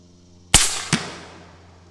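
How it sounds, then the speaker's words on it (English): An airgun firing a hollow-point boolet into a block of ballistic gel: one sharp loud crack followed by a second impact report a moment later, decaying into a short ringing tail, with no voices. "So we're gonna shoot that ballistics gel now."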